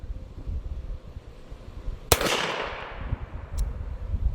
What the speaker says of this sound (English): here is the suppressed 50AE, and these are subsonic 50AE.